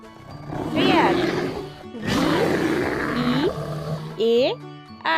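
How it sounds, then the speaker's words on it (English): A bear roars in loud, drawn-out, rumbling bursts, ending in a short series of rising, whining vocal tones. "Bear."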